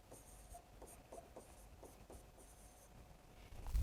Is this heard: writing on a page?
yes